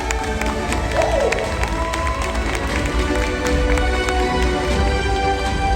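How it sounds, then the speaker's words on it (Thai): An audience at the Shell Mechanic Champions League awards applauds the motorcycle mechanic champion, steady crowd clapping and light cheering filling the whole stretch at moderate loudness. "ขอเสียงปรบมือมาให้กับพี่ยศพลนะครับ"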